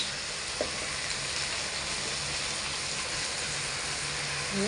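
Ground cumin, turmeric and chilli powder sizzle in hot oil in a pan, a steady close frying hiss that runs throughout with no talk.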